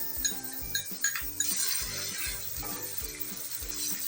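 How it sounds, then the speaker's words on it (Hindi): Onions frying in hot oil for a chana pulao, with garlic and ginger stirred in, give a steady sizzle under clinks of a spoon against the pot and a repeating low rhythmic thump throughout. "प्याज को हम थोड़ा तब तक भून लेते हैं जब तक ये लाइट ब्राउन नहीं हो जाता"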